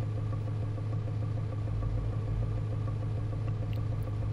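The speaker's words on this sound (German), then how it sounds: "Der klopft aber schön, der Motor." Audi 80 B2 engine in City Car Driving, a steady, loud, low idle with a rhythmic knocking pulse running evenly throughout, no voices.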